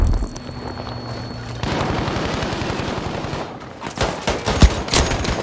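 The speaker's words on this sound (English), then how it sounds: "Have this grenade." Gunfire crackles through a Battlefield 5 milsim skirmish on the Lofoten islands: a steady rumble gives way to dense noise, then irregular shots build to one sharp, loud blast near the end, with no voices.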